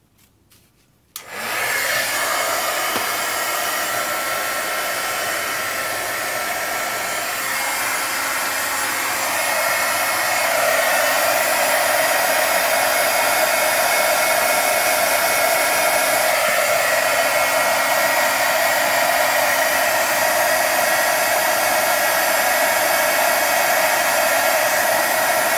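A heat embossing tool switches on with a click and blows hard and steadily at close range for about twenty-five seconds while embossing a handmade booklet, a loud, even, hair-dryer-like whoosh throughout.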